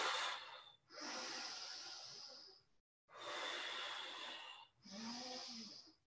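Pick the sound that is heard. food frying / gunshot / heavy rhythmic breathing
heavy rhythmic breathing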